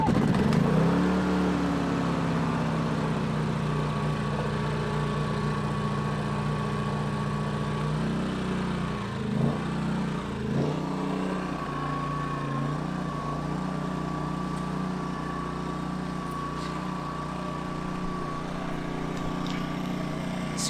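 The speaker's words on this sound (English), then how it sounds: "So you can see the generator is pretty quiet." A gasoline inverter generator runs at a steady, fairly quiet drone with a low hum and a higher whine, close by and continuous throughout, with a brief shift in tone partway through.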